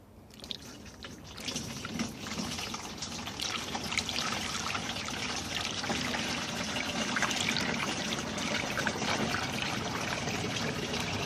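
Waste vegetable oil, warmed to liquid in winter, poured in a steady trickling stream that builds slightly and then holds constant, close and moderately quiet.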